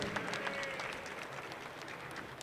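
Applause greeting Ailton Guimarães Jorge, former president of the Vila Isabel samba school, at its carnival plot presentation. A crowd claps steadily at moderate volume with some distinct nearby claps, and no one speaks.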